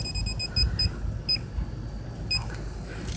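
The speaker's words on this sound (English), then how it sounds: "I'll wait till it stops beeping." A Tek-Mate refrigerant leak detector, used on an air conditioner freon leak, gives a run of short, evenly spaced electronic beeps that are fairly faint and sit over steady background noise.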